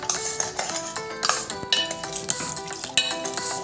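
A spoon stirs pickled mango and sugar in a pot, scraping and clinking against the metal in busy irregular strokes, close and continuous.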